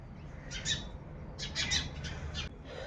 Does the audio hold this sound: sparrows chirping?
yes